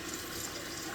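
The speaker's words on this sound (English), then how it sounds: "I tried filling this whole sink with hot soapy water" Hot soapy water pours steadily from a tap into a kitchen sink piled with dishes, a continuous close rushing gush at even loudness throughout.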